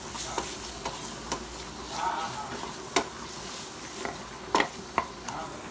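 Peppers and Maggi masala are stirred in a pan, with a soft frying sizzle under scattered ticks and scrapes of a spoon against the pan.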